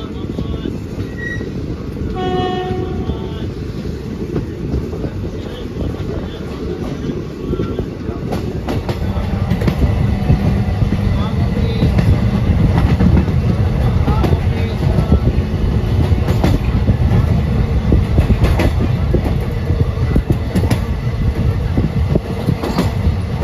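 Hool Express passenger train running on rails between Howrah and Siuri, a continuous loud rolling roar with clickety-clack wheel rhythm that grows fuller partway through, heard from inside alongside faint background voices.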